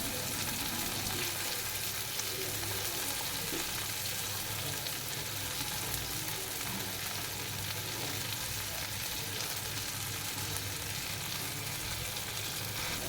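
Chicken chaap pieces frying in ghee over a medium-low flame, a steady close sizzle with faint stirring, continuous and alone throughout.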